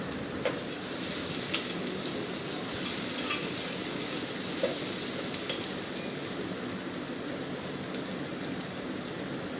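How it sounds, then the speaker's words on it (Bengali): Chopped onions frying in hot oil for chicken rezala, a steady dense crackling sizzle like heavy rain, continuous and close throughout. "পেঁয়াজগুলো দিয়ে তেলের মধ্যে ভেজে নেব"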